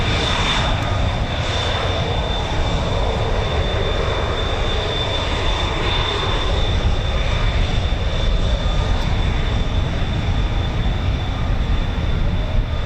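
An F-35B stealth fighter jet engine roars steadily at an air base, a continuous loud broadband rumble with a whining tone on top, sustained without a break and with no voices.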